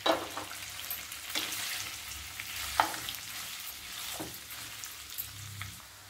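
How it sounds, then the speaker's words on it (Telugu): Paneer pieces fry in hot oil for pulao, a continuous close sizzle broken by a few sharp stirring scrapes and clinks of the spoon. "వేసుకొని కొంచెం వేయించుకుందాం"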